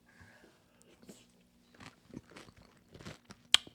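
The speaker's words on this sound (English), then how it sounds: "Really crunchy, and the pudding's really soft." Biting into the thick caramelized sugar crust on a soft custard pudding, giving a few close, crisp crunches and cracks that end in one sharp snap.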